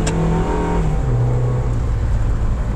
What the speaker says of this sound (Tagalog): Ganda rin tumunog ng makina.